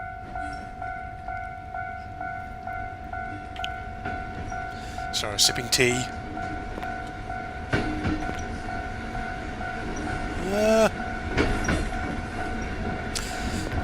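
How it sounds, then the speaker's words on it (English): A train rolls through a railroad crossing in an anomaly horror video game set in Kamakura. It gives a steady, loud rumble with sustained tonal ringing and sharper bursts, heard under a person talking. "Should be looking at the train."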